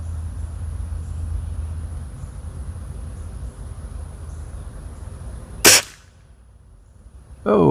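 An airgun fires once at a benchrest target: a single sharp, loud crack stands out against steady outdoor background hiss, followed by quiet, then another burst of noise near the end.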